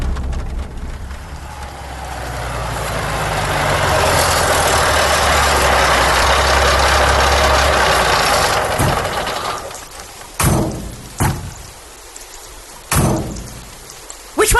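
A truck engine idling with a low steady rumble under a hiss like rain in a radio drama, then cutting off, followed by a few sharp clunks and thumps in quieter surroundings.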